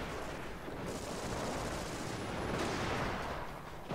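Gunfire aimed at mortars in the Company of Heroes video game, a continuous dense roar of overlapping shots and blasts, loud and unbroken for the full four seconds.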